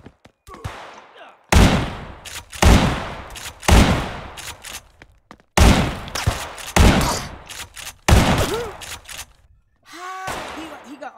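Rapid automatic gunfire in GTA San Andreas multiplayer, loud repeated bursts of close shots in quick rhythm with short pauses between volleys.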